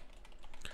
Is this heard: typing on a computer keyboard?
yes